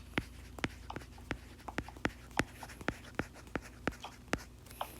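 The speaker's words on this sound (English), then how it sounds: "So let me write that out." Pen strokes writing out nerve names on a brachial plexus diagram, a run of sharp, close scratchy taps in an uneven rhythm, roughly a dozen distinct strokes over a faint steady hum.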